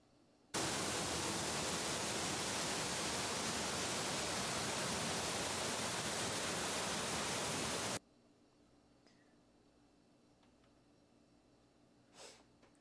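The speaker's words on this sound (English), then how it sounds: "This is one of the waterfalls." Close, loud waterfall roar in a secluded pool area: a dense, even rush of water that runs steadily for about seven seconds, then cuts off sharply to near quiet.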